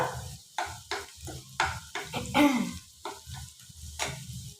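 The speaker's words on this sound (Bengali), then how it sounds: "আলুগুলো এবার ভাজা হয়ে গেল।" Potatoes frying and stirred in a pan for tarka: repeated bursts of spatula scraping and stirring over a steady sizzle of hot oil, close and moderately loud, no talk.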